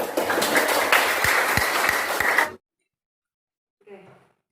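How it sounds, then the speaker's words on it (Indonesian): Classroom applause from high school students in an Islamic education lesson, a brief burst of clapping that stops abruptly, followed by silence and a short spoken voice. "Kita kasih tepuk tangan dulu"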